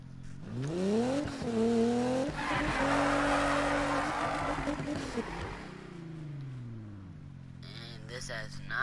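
A race car in Need for Speed revs hard and shifts through gears, its engine note climbing, dropping and climbing again, with tire squeal and game sounds layered under loud, continuous play.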